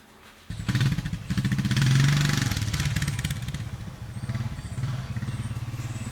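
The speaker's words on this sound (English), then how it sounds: "this would be a lot easier with the yard rake attachment behind the four-wheeler" A four-wheeler ATV engine runs loud and close with a steady motorcycle-like drone that swells slightly, out on a grassy yard while gathering cut grass, with no one talking over it.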